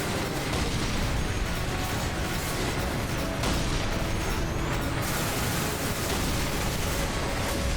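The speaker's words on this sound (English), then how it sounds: "we need like 5 or so shots with the shoulder cannon for that one" Heavy shoulder cannon fire and explosions in Earth Defense Force 2025, a dense, continuous roar of blasts and rumbling impacts filling the whole stretch without pause.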